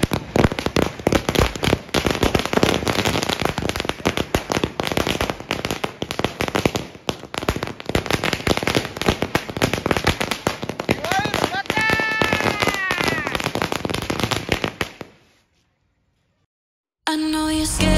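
A long string of firecrackers lit and bursting in a rapid, dense, loud crackle for about fifteen seconds before cutting to silence, with people shouting over the blasts.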